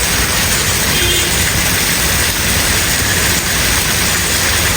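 Very heavy rain pours down in Islamabad, a dense, unbroken hiss of downpour filling the air evenly from start to end, with no voices.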